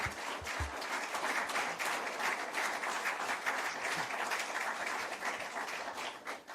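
An audience applauds at a policy speech event as the Prime Minister is welcomed, a dense, steady roar of many hands clapping throughout, fairly loud and even.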